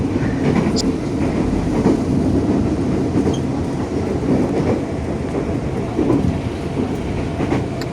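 Steady rumble and rattle inside a moving commuter train car at 5 a.m., with rhythmic clacking of wheels on the track and a continuous low roar.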